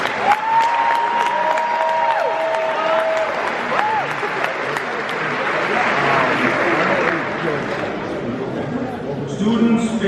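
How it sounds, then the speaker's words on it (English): A graduation audience gives school staff sustained applause, dense clapping with some cheering and crowd chatter, a tonal whistle-like sound early on, steady for ten seconds. "Let's please give our staff at Central a big round of applause."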